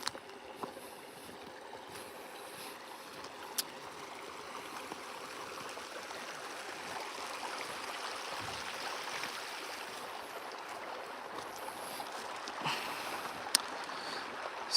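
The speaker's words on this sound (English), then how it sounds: "It is harder to see, but we are parked right next to a little creek." A small creek flows steadily beside a parked off-road pickup motor home, a continuous soft rushing and trickling wash of water heard close by and alone, with a few faint clicks.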